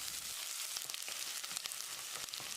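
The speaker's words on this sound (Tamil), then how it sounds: "வெங்காயத்தை கண்ணாடி பதத்துக்கு வதக்கிடலாம்." Steady, close sizzling and crackling of finely chopped onions sautéing in a hot pan until translucent, with occasional soft stirring clicks, no voices.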